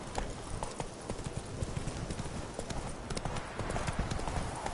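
Horse hooves gallop steadily in The Witcher 3, a continuous run of rapid clip-clop beats at moderate loudness, with faint game ambience underneath.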